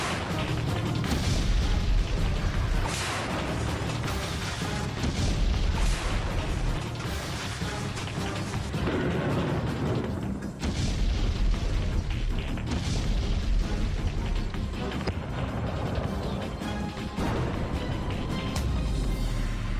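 Continuous heavy bombardment in a war zone, with explosions from shelling, missiles and rockets rumbling and booming densely and loudly throughout, layered with crashes and bursts and no clear pauses.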